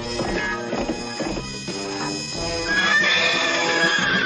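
A horse whinnies loudly over busy cartoon music, the neigh rising into a high, drawn-out squeal toward the end.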